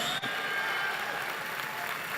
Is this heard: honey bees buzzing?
no